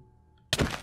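A Minecraft explosion bursts out of near silence as a single loud, sudden blast with a short rumbling tail.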